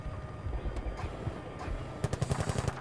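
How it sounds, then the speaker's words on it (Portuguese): Anti-aircraft gunfire in the video game Battlefield Bad Company 2, a muffled rumble topped by a rapid burst of cracking shots near the end, fairly faint. "Está levando tiro do antiaéreo."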